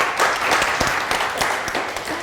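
Studio audience members clap after a story on a Ramzan special broadcast, a lively rush of many hands with a few sharper individual claps standing out.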